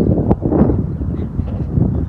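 Wind buffeting a microphone outdoors, a loud low rumbling roar that gusts unevenly throughout, with a brief sharp knock near the start and no talking.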